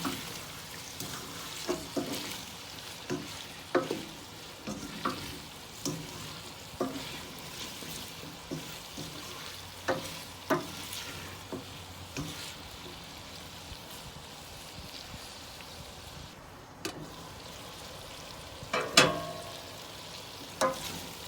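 Beef dinuguan with beef blood simmering and sizzling in a pan while being stirred, a continuous crackling fry punctuated by regular scraping strokes of the spoon, close and without speech.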